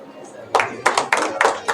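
A few people clap at a ceremony honoring guests with shawls, sparse uneven claps in a loose rhythm, fairly close, starting after a brief quiet moment.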